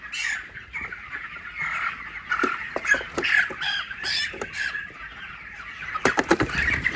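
Chickens on a poultry farm cluck and squawk in agitation as they are caught for weighing, a busy flock close by with flapping and scuffling throughout.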